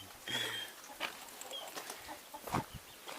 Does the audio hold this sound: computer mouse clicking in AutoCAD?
no